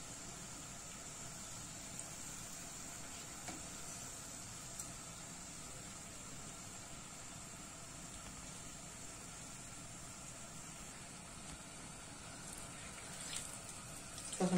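Berliner doughnuts being fried in hot oil, pressed down so the pale sides brown, give a steady, even sizzle that runs unbroken and moderately loud throughout, with no voices.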